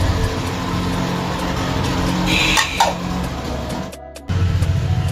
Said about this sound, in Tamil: வண்டி வந்துகிட்டே இருக்குது ஃப்ரெண்ட்ஸ், வீடியோ சரியாக எடுக்க முடியல.